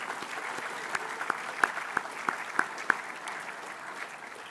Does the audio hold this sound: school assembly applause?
yes